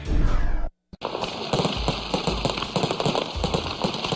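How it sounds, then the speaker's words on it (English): Fireworks and firecrackers at a new factory's opening celebration in Dalian, China, crackle in a dense, continuous volley of sharp pops and bangs after a loud opening burst and a brief gap. "It's an event worthy of fireworks and elaborate celebrations."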